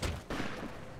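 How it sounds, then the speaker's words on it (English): A brief, dense gunfight in Fallout: New Vegas in Freeside: overlapping shots crackle together in a short, noisy burst of about a second. "Oh, yep, shootout."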